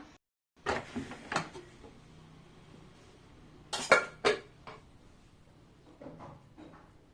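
A pressure cooker holding an apple cake is opened: a few sharp metallic clanks and clinks of the lid and pot, spaced out with quiet handling noise between them, close by.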